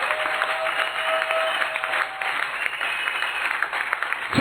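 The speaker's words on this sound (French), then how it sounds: "Acclamons très fort le Seigneur Jésus-Christ" A church congregation applauds the Lord Jesus Christ with loud, continuous clapping and crowd noise that lasts for several seconds, with no clear speech.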